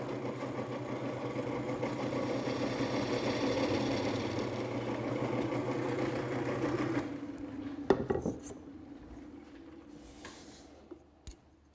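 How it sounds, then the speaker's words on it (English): A wooden bowl on a lathe is hollowed with a gouge, a continuous scraping, whirring cut over the motor hum for about seven seconds, then the cutting stops with a few knocks and clatters as the lathe winds down. "Now I'll grab my gouge once again and start to hollow it out."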